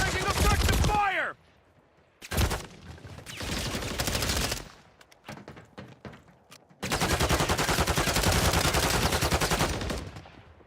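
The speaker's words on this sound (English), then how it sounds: "Taking effective fire." Video game gunfire crackles in loud, dense bursts, with a sharp volley at the start, a shorter burst and scattered shots midway, then a long sustained stretch of rapid automatic fire near the end.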